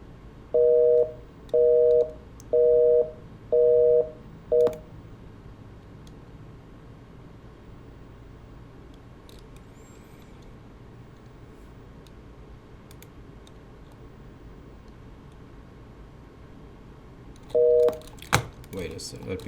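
Telephone tones on a call line: five short evenly spaced busy-signal beeps, then quiet line hiss for several seconds, then one more beep followed by faint clicks.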